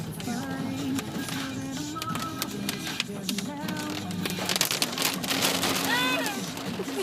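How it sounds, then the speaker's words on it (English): Rain falls steadily, heard from inside a vehicle during a storm-chasing drive, with a constant patter under people talking excitedly and some engine hum. "Rain. That's rain."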